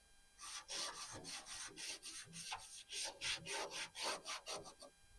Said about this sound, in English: So I'm gonna scuff it up a little bit.